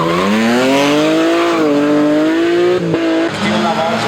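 An MG rally car races past on a stage of the Rally Vipavska dolina, its engine loud and close with a rising, then steady note that shifts near the end as the car changes gear or pitch.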